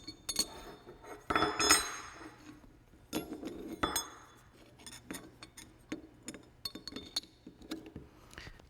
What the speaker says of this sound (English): We'll use our spanner wrenches that are included with the kit.